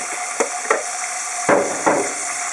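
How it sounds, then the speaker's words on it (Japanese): Konjac pieces sizzle as they drop into hot sesame oil over medium heat, with two or three sharp bursts of frying and a steady crackle between them, close and fairly loud. "油が温まってきたところでこんにゃくを入れます"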